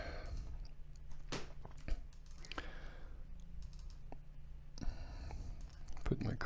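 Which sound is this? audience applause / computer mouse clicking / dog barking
computer mouse clicking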